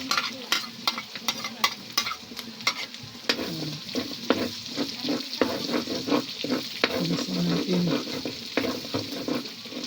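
Garlic and onion sizzle in a hot pan for a Filipino bamboo-shoot dish (paklay na labong) while a utensil stirs and scrapes in quick, repeated strokes, close and steady throughout, with no talking.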